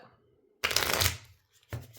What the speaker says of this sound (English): 1 more shuffle, maybe 2, just to be sure.